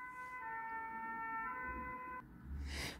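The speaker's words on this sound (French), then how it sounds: "j'ai coupé juste pour la sirène" An emergency vehicle siren wails in steady sustained tones, loud and close, then cuts off abruptly, followed by a brief burst of broadband noise.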